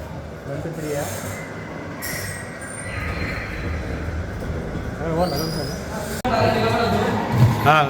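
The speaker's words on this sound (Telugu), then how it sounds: "ఇదే ట్రైన్లో మనం పోయేది." A small theme park train at a dinosaur park rolls past with rumbling wheels and rising metallic squeals and scraping, growing louder toward the end, with voices in the background.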